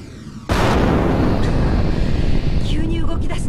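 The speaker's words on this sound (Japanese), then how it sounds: "爆発のショックだろうか。" A loud, sustained explosion in the video game Overblood, a sudden blast that cuts in after a brief quiet start and rumbles on steadily, with some faint higher whooshing toward the end.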